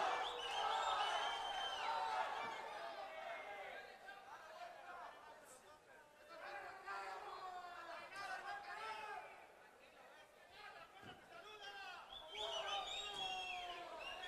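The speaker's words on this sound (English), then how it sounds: "the crowd here at the Salón Mezzanine getting behind him" Boxing crowd at the Salón Mezzanine during a live fight night, a dense murmuring chatter with swelling cheers throughout, steady and fairly distant beneath a commentator's voice.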